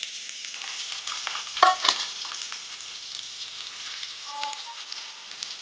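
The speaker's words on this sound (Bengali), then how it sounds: "প্রথমে আমি পেঁয়াজটাকে বাদামি করে ভেজে নিব।" Onions and spices fry in a pan while cooking beef tripe, a steady bright hiss with a louder burst of sizzling and scraping near the middle, then a quieter simmer.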